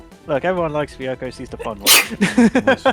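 A single sharp sneeze bursts out amid ongoing conversation, loud and close, briefly cutting through the talking voices.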